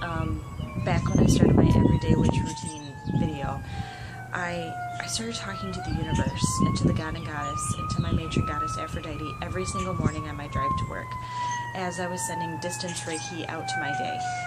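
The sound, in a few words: emergency vehicle siren passing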